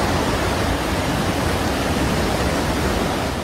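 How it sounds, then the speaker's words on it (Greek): A rushing floodwater torrent from a storm in Magnesia, Greece, eroding the ground: a loud, dense, steady roar of churning water with no gaps. "Τα ορμητικά νερά από τον κραυσίδωνα διαβρώνουν το έδαφος."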